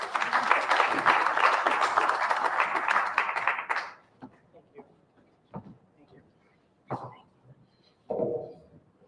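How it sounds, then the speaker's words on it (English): Audience at a City of Flint community announcement on violent-crime prevention applauds loudly for about four seconds, then the clapping stops abruptly, leaving scattered knocks and brief bumps in a quiet room. "Can you give them a round of applause?"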